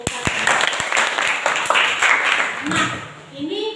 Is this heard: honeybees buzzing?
no